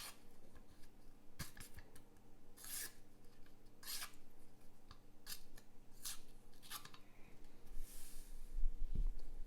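Divo Mash v2 knife slicing through cardboard, a series of close, crisp scraping cuts in irregular bursts, faint and alone.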